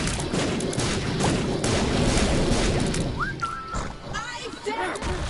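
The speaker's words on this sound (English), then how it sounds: "I'm literally just being shoved around by all the explosions here" Explosions in The Binding of Isaac, a dense rumbling barrage of blasts that continues throughout, with someone talking over it and high whistling game effects toward the end.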